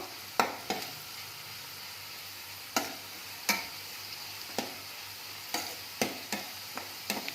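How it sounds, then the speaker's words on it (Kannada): Spoon stirring jaggery into okra dry palya frying in a pan: a series of sharp, irregularly spaced scrapes and knocks over a faint, steady sizzle, close by and with no talking. "ಬೆಲ್ಲ ಹಾಕ್ಕೊಂಡು ಚೆನ್ನಾಗಿ ಮಿಕ್ಸ್ ಮಾಡ್ಕೋಬೇಕು"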